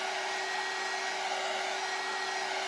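A hair dryer blows steadily and close on a vintage daisy shelf sitter figurine, a constant whirring hiss with a fixed motor whine that holds unbroken throughout, no voices.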